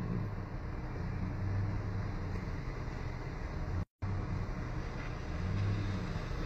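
A car drives around nearby, giving a steady, continuous engine and road rumble that runs almost unbroken, with a brief dropout partway through.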